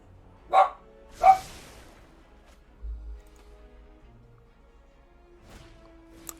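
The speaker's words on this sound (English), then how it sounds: "Never mind my dog." A pet dog barks twice in quick succession near the start, fairly close, then falls quiet apart from a soft thump and faint rustling.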